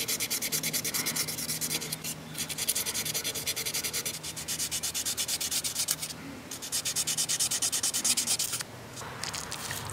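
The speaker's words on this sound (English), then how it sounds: "I think I'm going to go back to my little sanding stick here to get into these tight spaces." Steady back-and-forth scraping of a small sanding stick on a rusty old pocket knife blade, worked into tight spaces, continuous and close with brief pauses and no talk.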